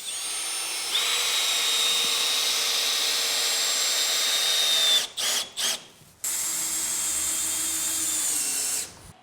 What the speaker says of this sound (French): On va pouvoir maintenant visser le poteau.